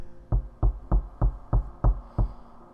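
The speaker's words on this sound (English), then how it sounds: "It sounded more like knocking, and it was getting more frequent." Seven evenly spaced, dull, close knocks sound alone in quiet, each a low thud falling in a steady rhythm.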